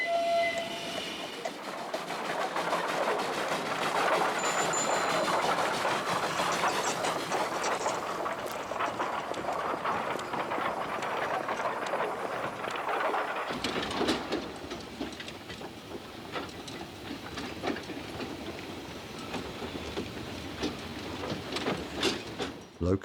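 A 1907 Borsig-built steam locomotive at Sibiu station, with a sustained loud rumble and hiss, a brief whistle-like tone early on, then steady rolling clatter as it moves.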